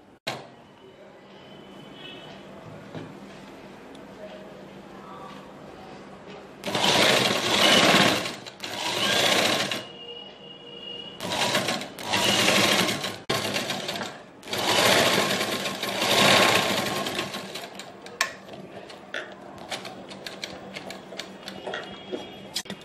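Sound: sewing machine stitching cushion cover edges

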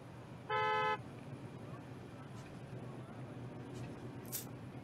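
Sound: car horn honking in Parking Tycoon video game

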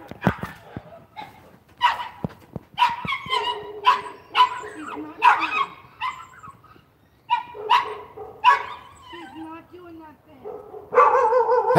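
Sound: dogs barking

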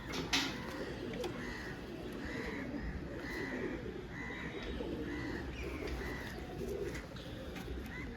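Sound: pigeons cooing

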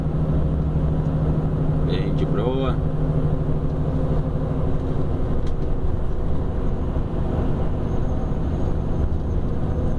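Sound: car engine braking on the Serra do Cafezal descent

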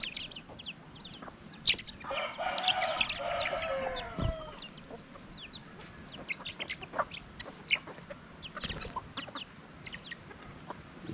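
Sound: chickens clucking outside

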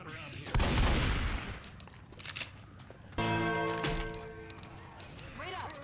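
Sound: shotgun gunfire in video game Left 4 Dead 2

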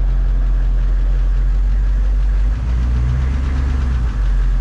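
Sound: Humvee engine running

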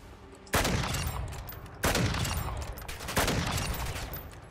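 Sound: gunfire in Modern Warfare 3 video game

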